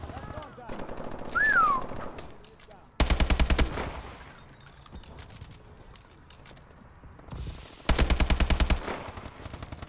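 Rapid automatic gunfire from the video game Call of Duty: Advanced Warfare, two loud bursts of machine-gun fire separated by quieter game sounds and a whistle-like tone, close and dominant.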